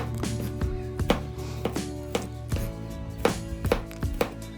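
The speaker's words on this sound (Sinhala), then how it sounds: "සුදු ලුණු බික් 3ක් විතර පෙති කපලා දාගන්නවා." About three garlic cloves sliced with a knife on a board: a quick run of crisp, close chopping taps, loud and alone, in an uneven rhythm.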